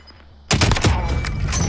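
Enemy gunfire in a shooter video game bursts in suddenly after a quiet start, a rapid loud volley of close shots continuing to the end, no talk.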